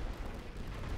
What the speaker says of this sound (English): Suppression barrage ordered.